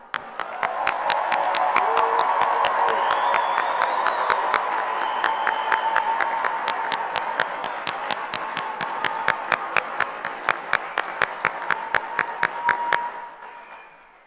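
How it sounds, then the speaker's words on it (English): A high school graduation crowd applauds and cheers the 2024 graduates. Broad clapping and crowd noise run under a fast, regular train of sharp claps near the recorder, then everything cuts off abruptly near the end. "Let's give our graduates one more round of applause."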